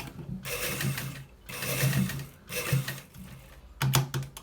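Sewing machine stitching a shirt collar, running in four quick close bursts of rapid mechanical chatter separated by short pauses.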